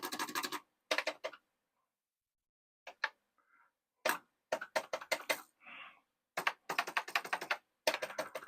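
Keys clatter on a Commodore SuperPET computer keyboard in need of cleaning, in irregular bursts of sharp clicks broken by silent pauses, close and fairly quiet.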